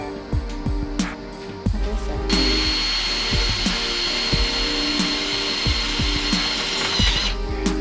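A power drill whirs in a sustained burst after sharp tapping and knocking on wood, close and loud, with clattering work noises around it.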